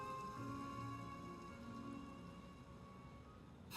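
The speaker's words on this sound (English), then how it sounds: "It rained for longer than I suspected." Rain in a Genshin Impact cutscene, a steady dense patter of drops on surfaces, continuous and even throughout, with a faint tonal hum in the background and no talk.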